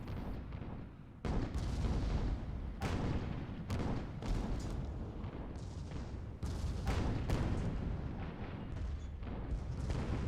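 Heavy naval gunfire from Hades shells striking ships in a naval combat video game, a dense run of loud booming impacts and blasts rolling one into another with no speech.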